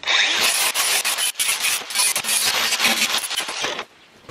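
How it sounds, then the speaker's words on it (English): An angle grinder fitted with a flap disc smooths sharp, freshly cut metal edges on a dog house build. The harsh, gritty rasping comes in repeated close, loud strokes with brief dips, and it stops near the end. "Flap disc on, I'm just going to run over the sharp bits."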